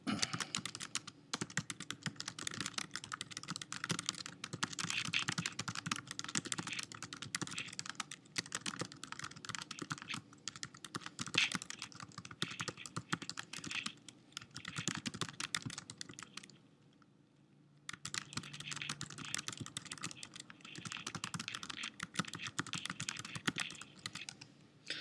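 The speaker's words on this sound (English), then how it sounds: "I'll type it out for you." Fast, continuous typing on a computer keyboard, dense close key clatter running almost without a break apart from one brief pause, with no voices.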